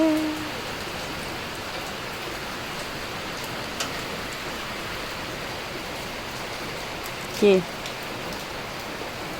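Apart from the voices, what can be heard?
steady rain falling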